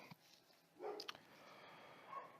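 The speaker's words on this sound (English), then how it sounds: "Sorry if you guys hear the dogs barking in the background," Dogs barking faintly in the background indoors, one short sharp burst and a couple of distant yips against a quiet room.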